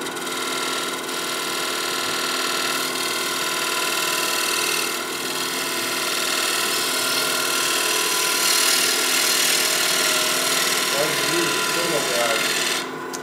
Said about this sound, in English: Just take my spindle gouge and just make it perfect.